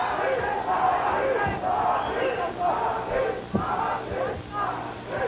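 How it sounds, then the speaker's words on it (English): A large arena crowd of fans from across Europe chants rhythmically at a 1992 kickboxing fight, loud repeated swells of massed voices alongside a commentator's voice. "You hear the crowd chanting."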